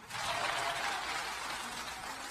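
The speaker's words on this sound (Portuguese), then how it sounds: "Dê esse aplauso de glória a Deus" A church congregation applauds in praise, a steady, even wash of many hands clapping that sounds distant and muffled and continues without a break.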